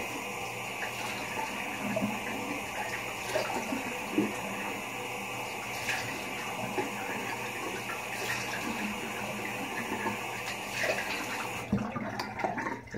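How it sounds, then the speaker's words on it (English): Cold tap water runs steadily into a sink for a post-shave rinse, a constant close splashing hiss with small splashes and bumps, cutting off abruptly near the end. "All right, let me cold rinse."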